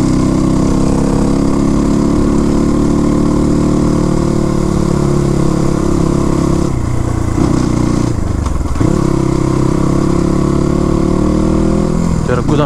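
Crossfire RM250 dirt bike engine churning loudly on a slippery, muddy trail near Sarangkot, Pokhara, with uneven revs and a couple of brief dips in throttle, and a voice talking faintly over the motor.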